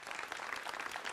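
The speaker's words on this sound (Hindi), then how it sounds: "जोरदार तालियों के साथ" Audience at a televised Hindi debate show applauding warmly, a steady wash of clapping that is fairly quiet and continuous, heard on its own without talk.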